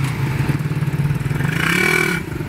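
A motorcycle engine close by pulses with a rapid throbbing idle, then revs up sharply before dropping back down.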